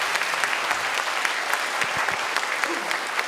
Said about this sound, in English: Let's give us a warm applause.